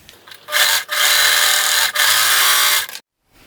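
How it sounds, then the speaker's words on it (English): A serger or zigzag sewing machine stitching a fabric headband seam runs in three steady, loud mechanical bursts separated by brief pauses, then stops abruptly into silence. "I'm going to sew this with a 3/8 inch seam allowance with either a serger or a zigzag stitch"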